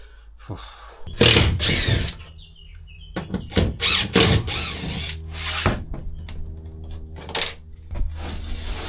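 Power tool cutting down an oversized racking shelf inside a VW Transporter T7 van, heard as several loud, short bursts of cutting separated by pauses and clattering handling noises.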